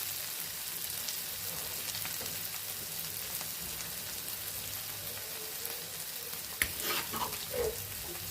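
Onions fry in tempering oil for gongura chutney, a faint steady sizzle with a few clinks and stirring sounds near the end.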